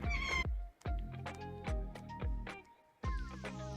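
A cat meows loudly and insistently, several drawn-out cries in quick succession, close and alone.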